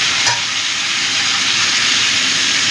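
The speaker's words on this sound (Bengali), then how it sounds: "ঝিঙেটাও ভালো করে ভাজা হয়ে গেছে, এবার আমি দিয়ে দিচ্ছি টমেটো।" Tomatoes added to ridge gourd frying in a hot pan: a loud, steady sizzle with hissing steam and oil crackle, continuous and close throughout.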